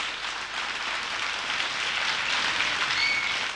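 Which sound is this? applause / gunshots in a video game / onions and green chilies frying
applause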